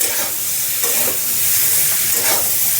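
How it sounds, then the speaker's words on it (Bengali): Turmeric and salt frying in hot oil in a pan for a Bengali paneer and winter vegetable dish, a loud continuous sizzle with stirring scrapes breaking through. "এবার হলুদ নুনটা দিয়ে একটুখানি ভালো করে ভেজে নেব"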